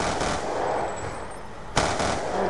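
Rapid automatic gunfire in Call of Duty Black Ops 2 rattles as a dense, noisy burst, then a sharper, louder volley breaks in near the end, with no speech.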